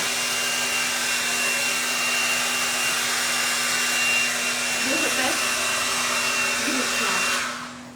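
A 5-in-1 hair dryer brush runs with a steady, loud broadband whoosh of blowing air that holds constant throughout, with a faint low hum beneath and a brief tonal wobble near the end before the motor shuts off.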